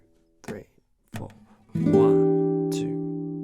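A few brief spoken counts, then a fingerpicked guitar chord from a song's intro rings out clearly and slowly fades as it sustains.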